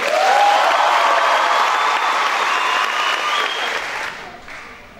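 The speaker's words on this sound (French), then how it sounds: "Et les Allumas vont vous montrer qu'ils sont contents de vous avoir avec nous ce soir en vous applaudissant très fort." A theater audience at a show bursts into loud, sustained applause, a dense wash of clapping that holds steady for several seconds before thinning out near the end.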